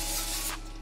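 Cooking spray misted over bread slices spread with sugar-free jam in a home kitchen, a short close continuous hiss that thins out after about half a second, heard alone.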